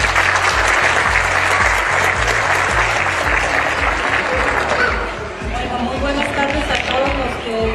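A crowd at the inauguration of a newly built dome in Villarreales bursts into loud, sustained applause. Close, dense clapping runs throughout, with voices mixed in and a slight dip partway through.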